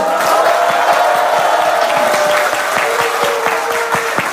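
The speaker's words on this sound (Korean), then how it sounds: "우리 유동수 의원님 박수 한번 주세요." At a Democratic Party rally in Incheon, a large crowd gives a lawmaker a loud, dense round of applause, with scattered cheers and shouts mixed in throughout, close and continuous.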